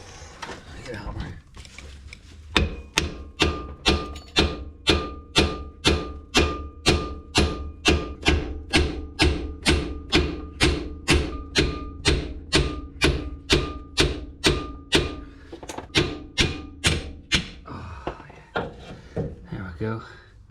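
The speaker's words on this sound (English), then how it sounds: "Get a hammer." A hammer strikes seized brake caliper parts on a Mitsubishi Pajero Mk1 4D56 in a long steady series of sharp metallic blows, about two per second, close and loud after a brief lead-in.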